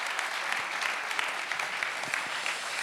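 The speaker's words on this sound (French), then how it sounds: "Ouais, on peut l'applaudir, c'est vrai." An audience claps for alpine skier Alexis Pinturault at a talk held at ENSA, the national ski and mountaineering school, with a sustained, even wash of applause throughout.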